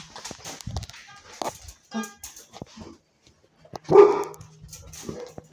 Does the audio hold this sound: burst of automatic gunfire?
no